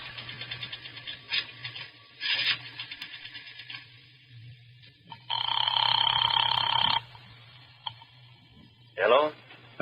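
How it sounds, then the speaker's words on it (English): A payphone in a radio drama, with a coin dropping into the slot followed by a rotary dial clicking through several numbers, then a steady ringing tone and a final short burst, close and clear. "dropped a nickel in the slot, and dialed"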